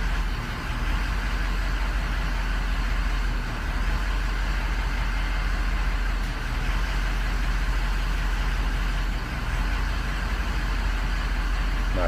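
A 2003 truck engine idles roughly and unreliably, a steady low rumble with a heavy bass drone that holds close and constant, with no voices.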